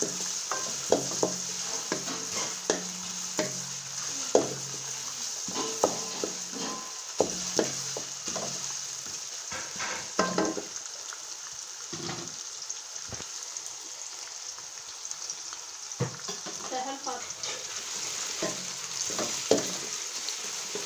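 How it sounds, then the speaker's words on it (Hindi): Carrots and potatoes fry in a pan over high heat with a steady crackling sizzle, broken by scattered clicks and scrapes of a utensil stirring, close by and without talk. "गाजरें और आलू हमारे फ्राई हो चुके हैं।"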